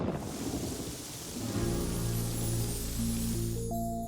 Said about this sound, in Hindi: बारिश जोरों से हो रही थी